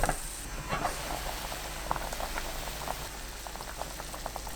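Beef taro soup stock with kelp at a steady covered boil in a pot, bubbles popping and pattering continuously at close range with no talking.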